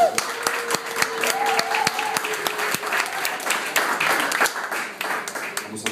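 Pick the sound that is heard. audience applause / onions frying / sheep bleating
audience applause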